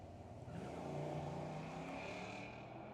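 A Corvette convertible and a Camaro on a drag strip at a motorsports park, engine roar swelling and holding as the cars run, heard faint and distant with a steady droning tone.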